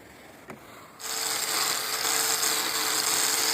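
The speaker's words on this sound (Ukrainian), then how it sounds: "Потім ще шліфоне терочкою, як Максим Петрович, ви бачите, шліфує. Ми шліфуємо так кожен ряд." Rubbing float scraping across rows of aerated concrete blocks on a house wall, a steady, fairly close abrasive hiss that starts after a brief quiet moment and continues evenly.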